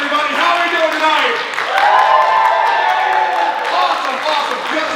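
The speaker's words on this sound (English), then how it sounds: "We got the solid clap here." Audience applause at a college unplugged music concert, a steady wash of clapping and light cheering from a large crowd filling the hall, with a host's voice talking over it.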